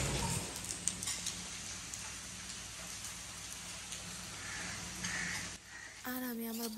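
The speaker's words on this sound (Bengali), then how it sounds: "আর বাইরে তো অনেক বৃষ্টি হচ্ছে, এই যে দেখেন।" Heavy rain pours steadily outside as a dense, continuous hiss, with a voice briefly speaking near the end.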